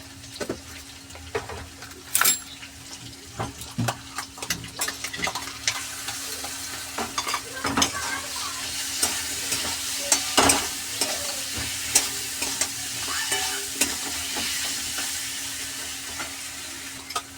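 Ground spices with a little water frying in a pan while being stirred, a steady close sizzle broken by many sharp scrapes and clacks of the spoon against the pan over a long stretch, with no talking.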